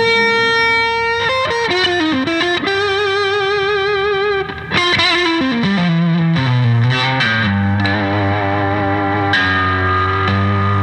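Electric guitar played through a Koch amp's overdrive channel with gain boost and an OTS fuzz stacked on top, giving thick, saturated chords and sustained notes that ring loudly and steadily with no talk.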